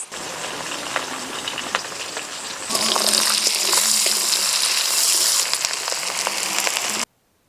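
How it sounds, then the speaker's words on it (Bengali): Prawns frying in hot mustard oil in a pan for a pumpkin ghonto, a steady dense crackling sizzle that grows louder partway through, with no talking. "চিংড়ি মাছগুলো ভাজা হয়ে গেল"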